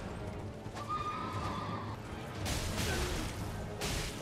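A horse's neigh in the Elden Ring Tree Sentinel boss fight, one drawn-out whinny over heavy clip-clop hooves and a rumbling battle din that swells louder toward the end.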